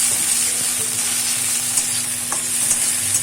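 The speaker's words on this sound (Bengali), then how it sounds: "টমেটোটা ভালো করে কষিয়ে নেব যাতে কাঁচা গন্ধটা চলে যায়" Chopped tomatoes with a little salt sauté in a pan with a steady, close sizzle and occasional stirring scrapes, with a faint steady hum underneath and no one talking.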